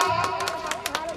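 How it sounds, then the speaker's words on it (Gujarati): An audience at a Gujarati dayro folk gathering claps, with a handful of sharp, scattered claps ringing out over a voice that keeps speaking. "પાડો તાળી"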